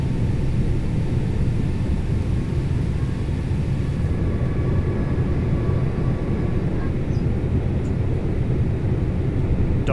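Airbus A321neo engines in a flight simulator climb-out, a steady broad roar with deep rumble filling the whole stretch, loud and continuous with no gaps.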